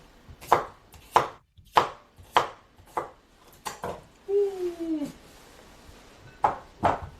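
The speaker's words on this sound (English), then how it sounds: "And I'm just chopping them up." A knife chops potatoes on a cutting board for a potato leek soup, giving about a dozen sharp, close thuds in quick irregular bursts, with a brief tonal squeak or clink in the middle and no talking.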